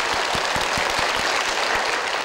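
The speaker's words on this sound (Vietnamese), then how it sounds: "Một tràng vỗ tay cho bạn Hà Phi." Steady, dense audience applause fills a Vietnamese picture-guessing word game show studio, a loud continuous wash of many hands clapping without any talk.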